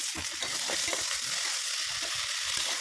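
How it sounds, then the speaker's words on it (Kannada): Chopped carrot, beans and kohlrabi fry in a pan with tomato, a steady close sizzle running throughout, with stirring scrapes and the light clatter of a utensil against the pan. "ಕಟ್ ಮಾಡ್ಕೊಂಡಿರುವಂಥ ಕ್ಯಾರೆಟ್, ಬೀನ್ಸ್ ಮತ್ತು ಗೆಡ್ಡೆಕೋಸು ಇದಿಷ್ಟು ಹಾಕ್ಕೊಂಡು ಫ್ರೈ ಮಾಡ್ಕೊತಿದ್ದೀನಿ."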